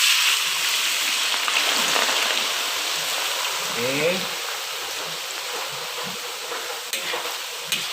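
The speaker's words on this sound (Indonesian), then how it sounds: "Sekarang kentangnya tadi udah direndam dengan larutan air cuka. Sekarang kita siap goreng ya." Potato pieces, soaked beforehand in a vinegar-water solution, fry in hot oil with a steady broadband sizzle and occasional stirring scrapes throughout, while a voice speaks briefly.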